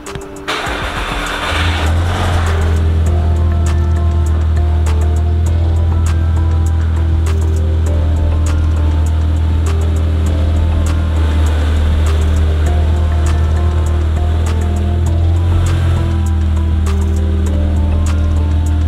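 An Audi A4 B7 Avant on fitted BBS wheels is driven with a steady, loud engine drone and rolling road hum that stays continuous throughout, with a brief start-up rise at the beginning and no one talking.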